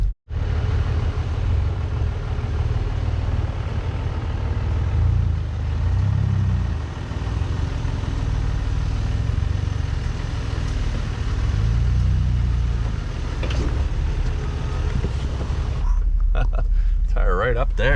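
A mostly stock Ford Bronco Badlands on 35-inch tires crawls over a boulder on a dirt off-road trail, its engine a steady loud rumble with tire and gravel noise throughout, while people talk over it.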